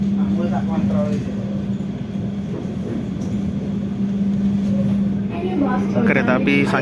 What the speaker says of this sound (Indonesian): Kereta api Sancaka sudah diberangkatkan dari Surabaya Gubeng ya.